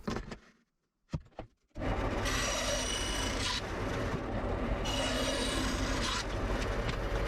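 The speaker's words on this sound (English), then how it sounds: "cutting out a section of the shelf. First with the plunge saw, and then at the bandsaw." A bandsaw cuts through a plywood shelf section in a workshop, a steady loud rasping whine that runs continuously after a brief quiet start, with a short pause in the middle before cutting resumes.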